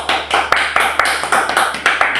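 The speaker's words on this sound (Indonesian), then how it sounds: "Tepuk tangan semuanya." Students in a classroom clap together in a short, fairly loud burst, with irregular sharp hand strikes repeating for about two seconds and no talking.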